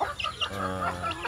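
A newly caught wild junglefowl clucks in a few short, close bursts, sharp clipped notes with brief gaps between them.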